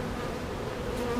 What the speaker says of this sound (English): So just knock off as many bees as possible.